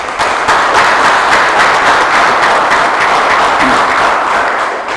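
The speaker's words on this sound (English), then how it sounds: "So I want to give a quick round of applause for all of our partners in making this program another success." Audience at a Genesee County pre-apprenticeship boot camp graduation applauds program partners: loud, dense, sustained clapping from a large crowd, steady throughout without speech.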